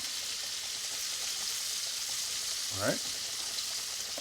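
Peeled and deveined shrimp frying in a pan for shrimp scampi, a steady broadband sizzle holding throughout, with a brief spoken word near the end.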